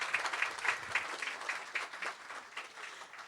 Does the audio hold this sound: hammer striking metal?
no